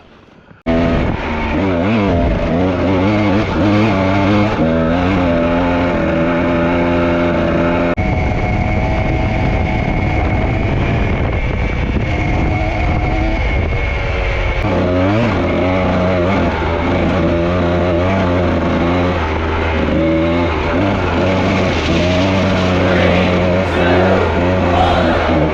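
Dirt bike engine riding near train tracks, loud and close throughout with rising and falling revs and a rough, buzzing drone that shifts with throttle changes.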